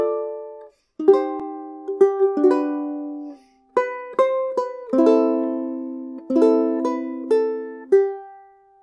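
Ukulele picking the opening phrase of Lullaby as single plucked notes, clear and close, in a gentle, evenly paced melody with brief pauses between short groups of notes.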